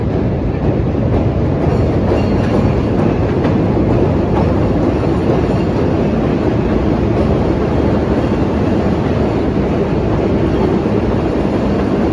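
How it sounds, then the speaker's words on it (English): A CTA heritage 2400 series train runs on Chicago's Loop elevated tracks, its loud, steady rumble and wheel roar filling the whole stretch from close by without a break. "Welcome aboard the Heritage Train 2400 series, making stops around the loop"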